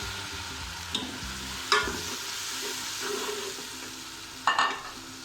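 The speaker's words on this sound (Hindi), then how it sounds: "इसको हम थोड़ी देर भूनते हैं।" Tomatoes and onions fry in a pan for beef keema biryani with a soft, steady sizzle, broken by a few sharp clinks and scrapes from a stirring spoon.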